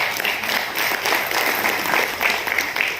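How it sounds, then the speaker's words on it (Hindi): Seminar attendees clap to welcome a woman coming forward, a brisk, even round of applause filling the room at close range with no talk over it. "इनका जोरदार तालियों से पहले स्वागत है"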